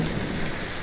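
Rain and thunderstorm in a video game, a steady hiss of rainfall with a low rumbling undertone, moderately loud and continuous for a brief moment with no speech.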